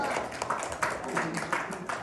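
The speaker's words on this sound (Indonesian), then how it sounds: "Kasih tepuk tangan dulu." Students in a classroom give a short round of applause, scattered claps under light background voices, moderately soft and brief.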